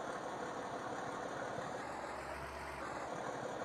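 A tractor engine in Farming Simulator 19 idles and runs at a steady low hum, faint and even throughout, with a slight deeper rumble partway through and no talking.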